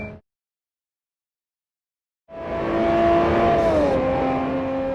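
A car engine in a video game starts up after a brief silence and settles into a steady hum with a rising then falling tone as it drives.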